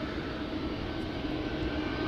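An airliner departing Amsterdam Schiphol Airport for Copenhagen, its engines a steady, loud broadband roar with no talk, holding constant over the whole stretch.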